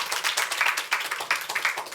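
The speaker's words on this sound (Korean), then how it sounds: "박수 한번 부탁합니다" A lecture audience at a startup talk claps briefly, a close, uneven patter of separate hand claps with distinct individual smacks, fairly soft and fading in short bursts.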